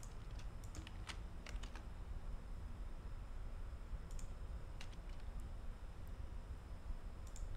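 Website-generated keyboard typing effect: clusters of sharp key clicks in quick bursts, several taps close together then pauses, over a steady low hiss, with no one talking.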